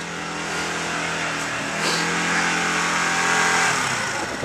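A motorcycle engine revs on a snowy street in Badalona during a snowfall, a loud, steady mid-pitched roar swelling slightly, with a brief voice in the background.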